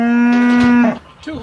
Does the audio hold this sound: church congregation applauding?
no